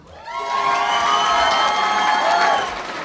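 A big crowd cheering and shouting at an adult education high school graduation, loud and sustained for a few seconds with whoops rising over the roar.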